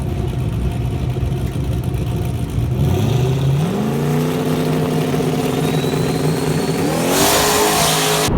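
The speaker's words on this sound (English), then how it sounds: "gets on the gas, starts bringing the RPMs up, the boost starts coming up" A boosted drag race car held on the foot brake at the staging line builds revs in two rising steps, its engine droning loud and close with a climbing whine and no voices.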